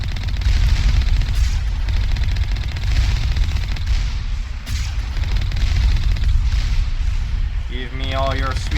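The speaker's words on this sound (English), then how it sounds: "Those rocket turrets or something. Heavy turrets, okay." Heavy rocket turrets in a video game fire in a relentless barrage of deep booms and blasts, loud and continuous, with a voice speaking briefly near the end.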